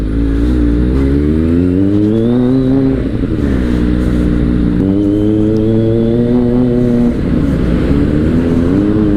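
Motorcycle ride stuck in road traffic among cars near SM Marikina on the way to Antipolo, with a steady close engine drone that rises and falls in pitch as the bike idles and revs.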